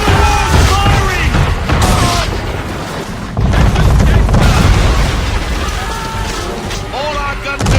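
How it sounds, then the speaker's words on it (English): Cannon fire from a man o' war warship in Assassin's Creed 3: repeated heavy booms and blasts rolling over several seconds, loud and close, mixed with shouting crew voices and whistling shot. "Man o' war firing!"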